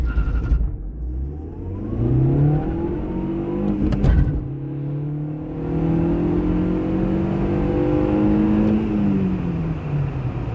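A 2009 Škoda Octavia Tour Classic 1.8 T petrol with a manual gearbox and front-wheel drive accelerates from a standstill toward 100 km/h, engine pitch climbing through the gears with a brief gearshift break, heard from inside the cabin.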